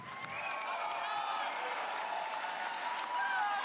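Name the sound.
esports arena crowd cheering in Berlin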